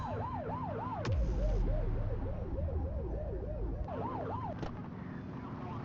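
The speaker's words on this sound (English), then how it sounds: "Get on their tail and flip the siren." A police car siren in The Precinct video game wails in a rapid, repeating yelp pattern, with a deep horn-like blast partway through, loud and steady over low engine rumble.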